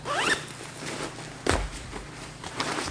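A backpack zipper is pulled open or shut nearby, a few quick ratcheting zips with a brief rustle of fabric in between, and no talk.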